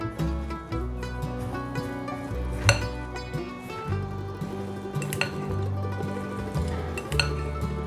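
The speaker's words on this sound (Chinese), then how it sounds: "把调味料和所有食材拌匀" Seasonings being stirred by hand into a bowl of shredded white radish with stir-fried mushrooms and celery, a steady scraping and rustling with light clinks of utensil against the bowl, no talking.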